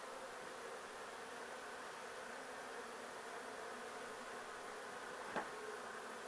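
Bees hum in a low-budget hive setup costing under 20 euros, a steady continuous drone holding even throughout, with one brief sharper tap near the end.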